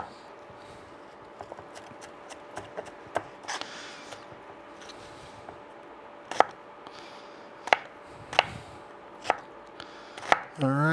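Knife chopping onions on a cutting board for chow mein, a run of sharp, irregular taps, some close and crisp, spread across a quiet kitchen with faint background noise.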